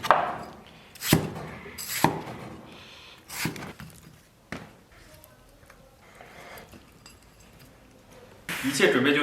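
A knife chops tomatoes into small chunks on a board, with sharp, well-spaced chops, several of them loud and some softer, and faint talk in between.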